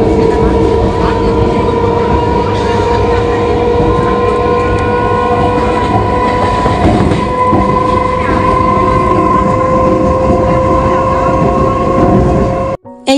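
A crowded local train bound for Shantipur rumbles steadily and loudly from the inside, with continuous rolling wheel noise and a faint tonal whine, ending abruptly.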